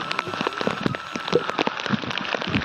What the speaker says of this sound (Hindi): बहुत बुरा मौसम है और पानी गिरते में, ओले गिरते में